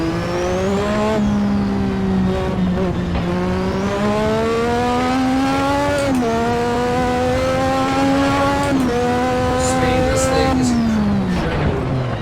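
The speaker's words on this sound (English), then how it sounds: "Listen to the whistle of that turbo." A high-revving turbocharged F1 car engine in Assetto Corsa at Goodwood Festival of Speed drones steadily with shifting pitch, a thin turbo whistle riding above the loud, continuous roar.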